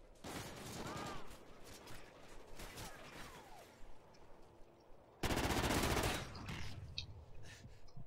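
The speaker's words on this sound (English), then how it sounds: "Going pretty ham with this gun now." Automatic gunfire from a weapon in the video game Call of Duty: Ghosts, rapid bursts running through most of the stretch, loud and close, with a harder, denser volley after a short lull.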